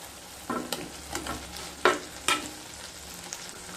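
Fried potatoes are stir-fried with spices, giving a faint background sizzle broken by a few distinct scraping pushes of a spatula in the pan, spaced about half a second apart, with no talking.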